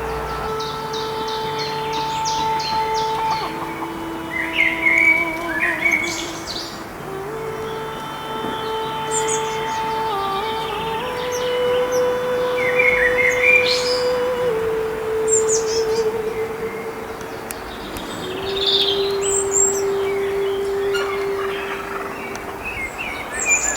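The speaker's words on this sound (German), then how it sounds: "durften die eben ausgeflogenen Vogelkinder auf dem angrenzenden Ahornbaum beobachten" Freshly fledged young birds chirping in a maple tree beside a garden, scattered high chirps and calls over a steady droning tonal background, moderately near.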